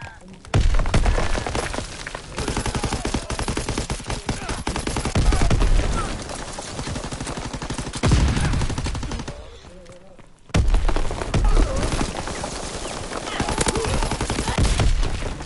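Loud, sustained automatic gunfire in a Call of Duty match, with rapid bursts layered over one another and only brief lulls, mixed with other battle noise and occasional voices.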